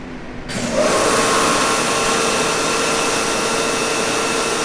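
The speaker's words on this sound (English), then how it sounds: "That is the vacuum pump going on." A vacuum pump starts up on a Weeke BHC Optimat Venture 1 CNC machining center, rising from quiet into a steady, loud broadband roar with a faint whine that holds for several seconds.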